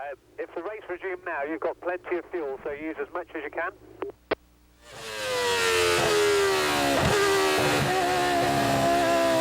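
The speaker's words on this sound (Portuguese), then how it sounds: "Aí o safety car passando exatamente pelo local do acidente." At the 2005 Chinese Formula 1 Grand Prix, a commentator's talk gives way to the safety car roaring loudly and close past the accident site. The engine sound is sustained and dense and fills the rest of the moment.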